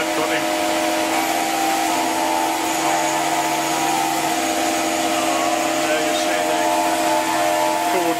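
A Tormach PCNC 1100 CNC mill cuts a model truck suspension part with an end mill held in a drill chuck, a continuous steady whine and grinding hum with constant loudness.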